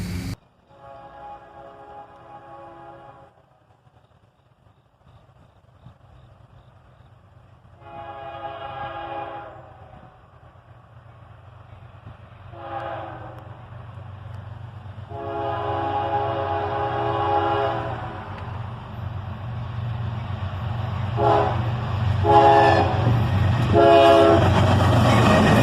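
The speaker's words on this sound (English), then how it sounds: "a little horn salute there from the engineer, with a pair of ES40 DCs leading this southbound manifest train" A southbound CSX manifest freight led by a pair of ES40DC locomotives sounds its horn in a series of blasts, short then longer, as the engine rumble grows louder and closer.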